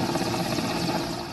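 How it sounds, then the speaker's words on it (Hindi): An Indian Air Force rescue helicopter over floodwater in Bilaspur, Chhattisgarh, with a steady, dense rotor and engine roar holding level throughout a brief stretch, moderately loud and with no voices. "जहां इंडियन एयरफोर्स के हेलीकॉप्टर ने एक शानदार रेस्क्यू कर कैसे बचाया"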